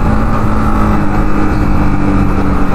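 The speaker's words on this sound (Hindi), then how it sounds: "बाकी पिकअप देखो कैसे दम से उठ रही है, एकदम बहुत बढ़िया।" A Yamaha MT15 BS6 motorcycle engine pulls hard while riding, with a loud, steady, close engine drone and wind noise throughout and no talk.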